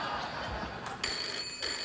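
A new iPhone rings, a brief electronic ringtone starting abruptly partway through and sounding clearly over a faint studio room background.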